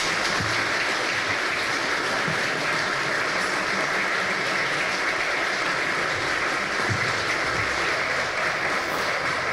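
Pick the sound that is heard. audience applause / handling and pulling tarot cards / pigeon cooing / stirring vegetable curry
audience applause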